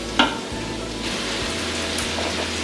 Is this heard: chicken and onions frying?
yes